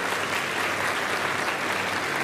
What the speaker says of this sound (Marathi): आता फक्त तुम्ही टाळ्या वाजवा